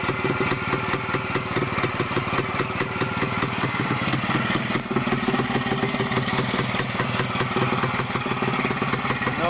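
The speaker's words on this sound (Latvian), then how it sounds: "Ļoti labs motorīčs" A small motorbike engine idles steadily close by, a fast, even putter that continues without change throughout.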